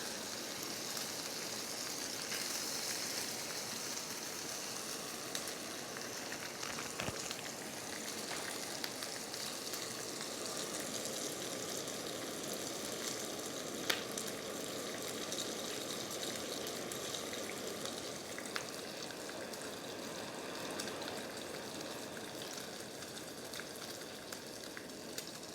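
Bacon frying in a hot pan on a Jetboil MiniMo backpacking stove, a steady close crackling sizzle that runs unbroken throughout with no talking.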